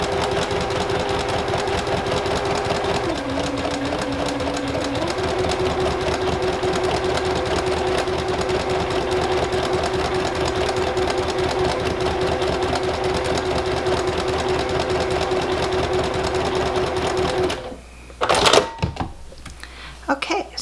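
A sewing machine stitches half square triangles for a small fabric bag, running in a steady, continuous close whirr with rapid needle clatter for most of the clip before stopping, followed by brief handling noises.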